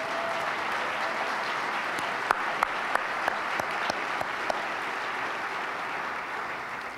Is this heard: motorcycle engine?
no